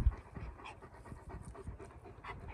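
Dogs panting steadily at a dispersed campsite in rural New Mexico, a quick, rhythmic breathing close by that stays moderately loud for the whole stretch, with no talking.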